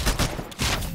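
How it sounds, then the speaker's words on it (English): A smart pistol fires in the video game Titanfall, a quick burst of several close shots in about a second, with no speech. "Kill the pilot with your smart pistol."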